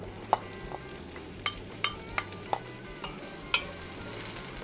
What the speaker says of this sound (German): im ersten Schritt werden Zwiebeln und Knoblauch im Sonnenblumenöl angedünstet